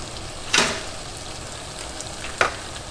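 Peppers sauté in a hot pan for a Tom Yum hotpot broth with a soft continuous sizzle, broken by two sharp stirring scrapes near the start and end.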